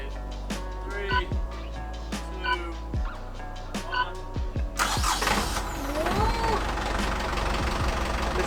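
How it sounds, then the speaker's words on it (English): A sailboat's repaired engine cranks with several short, labored turns, then catches and runs loudly and steadily close by, with a voice briefly heard during the cranking. "I never thought I'd be so happy to hear the sound of an engine."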